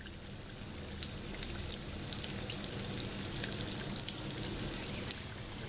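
Sweet unni appams fry in oil on low-medium heat, giving a soft, steady bubbling sizzle with scattered small crackles and pops, fairly quiet and close, with no voices.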